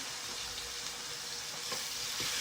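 Steak sizzling in a hot skillet, heard as a steady, fairly faint crackling hiss with no voices.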